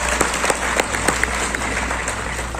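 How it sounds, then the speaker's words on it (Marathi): Audience applause for a powada performance at a Marathi jayanti stage event, a sustained wash of clapping with some sharper individual claps throughout, steady and fairly loud. "त्यांच्यासाठी एकदा जोरदार टाळ्या झाल्या पाहिजे"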